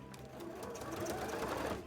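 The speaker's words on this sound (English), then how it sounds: "I can feel it as I'm sewing it." A sewing machine runs steadily close by as it stitches soft, squishy fabric, a continuous mechanical whir that builds slightly in loudness over a couple of seconds with no talking.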